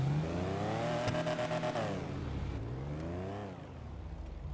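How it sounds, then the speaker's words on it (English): A car engine revs in the RedlineRP driving game, its pitch climbing and falling in a couple of sweeping runs, then settling into a quieter idle hum. "Listen to the engine."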